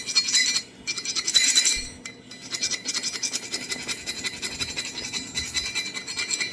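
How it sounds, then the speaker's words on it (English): A small rat tail file rasps around the pritchel hole of a new farrier's anvil in repeated close scraping strokes with brief pauses, bright and metallic. "I get a small rat tail file, and I just do the same thing with it. Go all the way around it at a bit of an angle."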